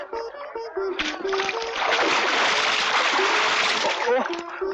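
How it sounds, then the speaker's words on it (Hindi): Water is splashed from a boat onto a person, making a sustained, fairly loud splashing rush that lasts a few seconds and swells and fades over melodic background music. "ओ करीमा, जरा करीब लेना, थोड़ा सा पानी डाल दूं।"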